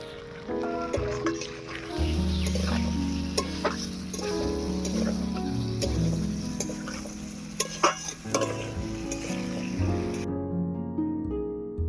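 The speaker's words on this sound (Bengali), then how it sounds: "আলুটাকে এবারে ভালো করে কষিয়ে নেব।" Potatoes frying in spiced oil while being stirred, a continuous close sizzle broken by frequent clattering spoon scrapes against the pan before it cuts off abruptly near the end.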